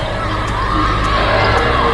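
A crowd at a University of Hartford women's basketball game cheering a made three-pointer, a loud sustained roar with whoops and shouts filling the arena and a commentator talking over it.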